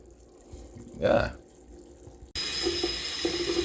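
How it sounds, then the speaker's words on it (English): Rice is washed in a bowl, first with a brief splash, then a tap is opened and running water pours steadily and loudly, close by, with no one speaking. "we washed this rice one more time"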